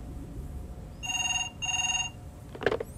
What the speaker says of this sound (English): Telephone.